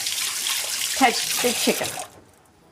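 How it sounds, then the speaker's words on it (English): Water runs steadily from a kitchen tap as hands are washed after handling raw chicken, a broad hiss that stops abruptly near the end, with a person speaking briefly over it. "I always wash my hands after I've touched"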